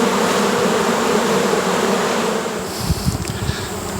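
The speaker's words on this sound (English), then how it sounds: "we've been seeing a lot of bees come in with this pollen on their legs" Honeybees buzzing in a beeyard where foragers return with pollen, a steady close drone that dips slightly near the end as a few rustling handling sounds come in.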